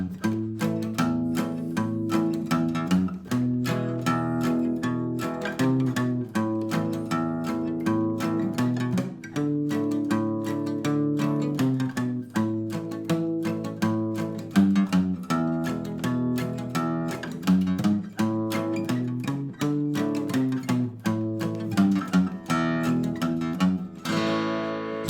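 Acoustic guitar strumming open cowboy chords in a steady rhythm, joined by walking bass lines that step up and down between chords with the first note of each walk repeated, played alone for a long stretch.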